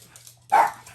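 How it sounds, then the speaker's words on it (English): Pet dogs indoors giving a single short, loud bark up close after a brief quiet moment. "Excuse our dogs"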